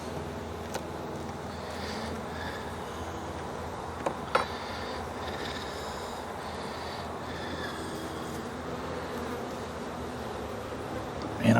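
Honeybees buzz around an open hive as a beekeeper checks a push-in cage holding a sassafras queen and brood frames late in the day, a steady, soft droning hum throughout with a few brief knocks.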